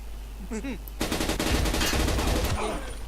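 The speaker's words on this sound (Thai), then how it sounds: "อุ้ย ปืนกลหนักอีกแล้ว" Heavy machine gun fire in the video game Blockade rattles in a dense rapid burst lasting about a second and a half, preceded by a brief spoken exclamation.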